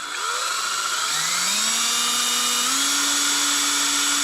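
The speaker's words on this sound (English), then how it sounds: "1/16 inch drill bit in there" Power drill fitted with a 1/16 inch bit boring slowly into thick plastic on a GoPro selfie stick build, a steady close whine whose pitch climbs as the motor speeds up, running continuously throughout.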